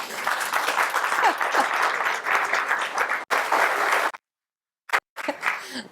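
An audience at a Valmiki Ramayana discourse claps together in a dense, sustained burst for about four seconds, stops abruptly, then a few scattered claps follow.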